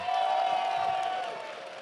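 A crowd applauds and cheers for the 2014 Pokémon US National Championships TCG Masters Division champion, a brief swell of clapping and shouts that fades over under two seconds.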